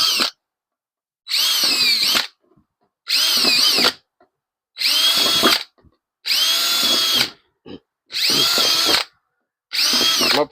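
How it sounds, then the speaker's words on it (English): A power drill whines in six or seven separate bursts of about a second each, drilling quarter-inch drainage holes in the bottom of a plastic plant pot, with short silent pauses between, close and loud. "I'm going to drill a couple holes,"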